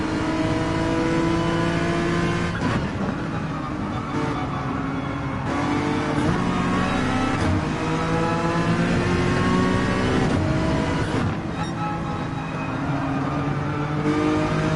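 A Honda NSX engine in Gran Turismo 7 drones loudly and steadily, rising in pitch through the gears with several shift dips along the way.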